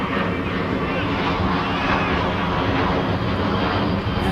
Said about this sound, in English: Another plane goes overhead.